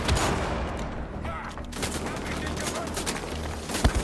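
Gunfire in the shooter Wolfenstein: The Old Blood, rapid bursts of shots mixed into a dense, loud battle din with several sharp cracks, including one near the end.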